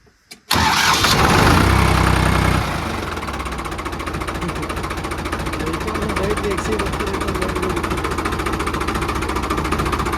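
A Ford 3630 tractor's engine cranks and catches after a brief click, roaring loudly for about two seconds before settling into a steady, rhythmic diesel idle close by.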